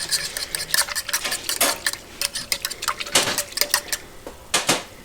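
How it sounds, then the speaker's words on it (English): Milk and yeast are whisked together in a bowl for homemade donut dough, giving rapid irregular clinks and scrapes of the whisk against the bowl, close and fairly loud with no talking. "So we just whisk it together a little bit for the yeast to be completely incorporated."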